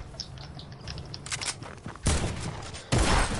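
Shotgun blasts in the Fortnite video game: two sharp, loud booms come about a second apart over busy background game noise and scuffling.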